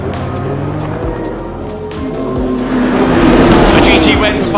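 Team WRT's BMW GT race car roars past at Le Mans-style endurance racing, loud, close and rising in intensity as the engine note swells, with a commentator's voice layered over it.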